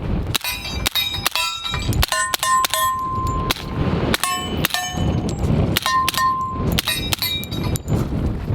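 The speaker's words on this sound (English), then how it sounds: "The tinging on the steel is louder than the gun." Bullets from a suppressed LWRC SMG45 strike steel targets, producing rapid, loud metallic pings and clangs with a ringing tail. The muffled shots sound in irregular bursts throughout.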